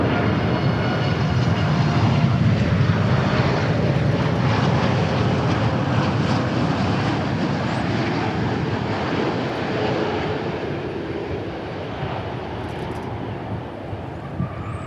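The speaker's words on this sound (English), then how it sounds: "All right, so now we got this 747." An Atlas Air Boeing 747 freighter inbound from Anchorage lands at Dallas Fort Worth airport. A loud, sustained broadband jet roar fills the air and slowly eases off, with no talking.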